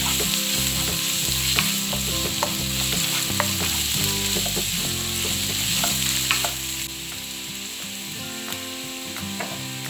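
Onion and garlic sizzling and frying in a pan for onion and garlic rice, with steady crackling and scraping stirs throughout, close and fairly loud, no talking.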